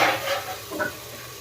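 A tadka of tomatoes and chillies sizzling in a pan while being stirred, a brief hissing fry with a couple of soft scraping strokes.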